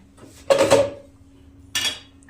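Pots and dishes clatter as they are washed in a home kitchen, with two short, sharp bursts of clanking about a second apart and no talking.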